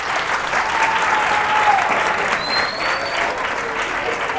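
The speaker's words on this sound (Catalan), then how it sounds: "Un aplaudiment per ells." Loud, dense audience applause fills a TV quiz-show studio as a school team is welcomed, a steady wash of many clapping hands with no break.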